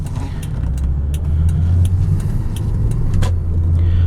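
A 2000 Lexus ES300 Platinum Edition driving on a city street, a low steady engine and road hum, quiet and smooth, with a few faint clicks and taps inside the cabin.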